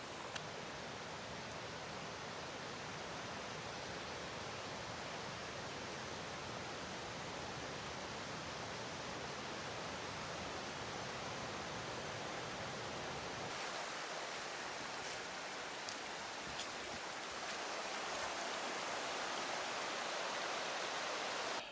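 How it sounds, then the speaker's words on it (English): South Harper Creek Falls roars with a dense, steady hiss of rushing water heard from the top of the falls, loud and unbroken throughout. "I'm at the top of South Harper Creek Falls."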